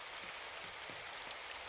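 Rain falling on an umbrella in the video game Symphonic Rain, a steady soft hiss of pattering drops with a few slightly heavier taps, faint and continuous with no voices.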